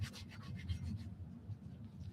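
Soft, rhythmic rubbing of sandpaper along the edges of a leather strap wrapping, close and fairly quiet, a few strokes fading toward the end.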